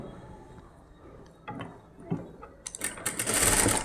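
A sewing machine runs a long basting stitch on an umbrella gown. Quiet handling comes first, then a loud, steady mechanical whirr starts near the end and runs on close by.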